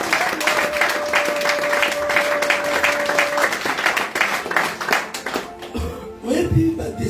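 A church congregation applauds, with dense, steady clapping and crowd noise lasting several seconds before it fades, while a sustained tone and voices come through underneath.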